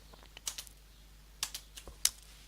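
Several bursts of keystrokes on a computer keyboard as a username is entered in a terminal: a short cluster of clicks, a pause, then a few more taps ending in one sharp, louder press, close and clear over a quiet background.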